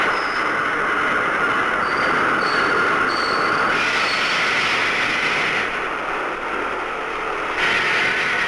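Barcelona metro train at Lesseps station in 1963, a loud continuous rumble of rolling cars with intermittent high wheel squeals, steady and close throughout.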